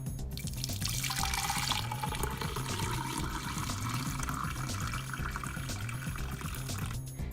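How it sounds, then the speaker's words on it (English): Fermented rice water is strained into a Pyrex measuring cup, giving a continuous close pouring and trickling stream that splashes steadily into the cup for several seconds. "I'm gonna go right ahead and strain my rice into a Pyrex"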